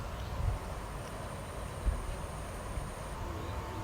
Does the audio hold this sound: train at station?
yes